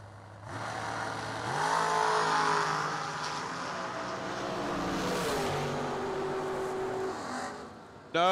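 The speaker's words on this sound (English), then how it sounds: "Another great drag race." Vintage drag race cars, one a Roadster Corvette, accelerate hard down the strip, a rising engine roar heard from a distance that climbs through gears and fades, then a sharp thump at the end.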